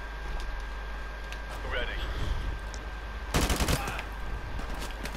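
A short, rapid volley of gunfire from Call of Duty Modern Warfare Remastered cracks out midway, standing above a quiet game background with a faint whistling sweep heard a little earlier.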